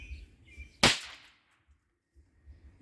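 A single loud, sharp crack from an Ox Slammers adult snap firework by Maddox, a sudden bang near the microphone that fades quickly over faint outdoor background noise.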